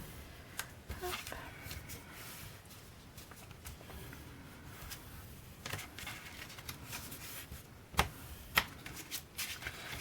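A bone folder creases paper for a vintage-style paper album page, giving close, soft scraping and rubbing strokes over a steady hiss, with a couple of sharp taps near the end.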